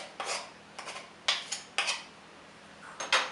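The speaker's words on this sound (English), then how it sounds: "I'll just clean my spoon off" A metal spoon knocked and scraped against a mixing bowl while making chocolate kisses, several sharp clinks and taps in an irregular rhythm, close and alone.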